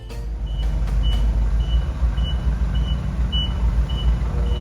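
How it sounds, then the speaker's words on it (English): A forklift reverses down a ramp outside a parts shop, its high steady beeper repeating at an even pace over a low engine rumble, moderately close, with no voices. "the forklift driver started coming down the ramp"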